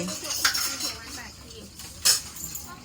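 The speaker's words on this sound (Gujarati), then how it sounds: "અહીંયા વાસણ ધોવાય છે અમે વાસણ ધોઈએ છીએ" Dishes being washed, with close metallic clinks and clatters of pots and utensils, two sharper knocks standing out over running-water hiss.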